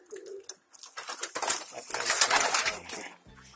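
A young hen pigeon cooing in short soft bursts, nearby, with some rustling and a faint wing flutter in between, no speech.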